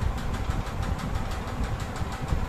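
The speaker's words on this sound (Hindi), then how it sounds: "पंखे की आवाज़ बहुत तेज है।" A loud electric fan runs steadily indoors before dawn, giving a continuous low whirring hum with a faint pulsing flutter, close and unbroken, with no voices.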